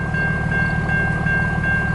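A long CN eastbound mixed freight train led by locomotive 8898 passes at Port Huron, Michigan, giving a steady low rumble with a sustained tonal whine, close and continuous throughout.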